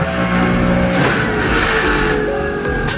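A motor on a book binding machine under repair runs steadily and loudly throughout, a continuous hum with shifting tonal layers and no talk over it.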